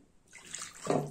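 Milk poured into a cookie mixture, a brief liquid splash and gurgle that builds quickly and ends in a fuller burst, close and fairly quiet.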